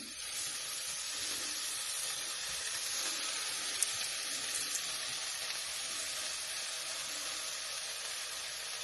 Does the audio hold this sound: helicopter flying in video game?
no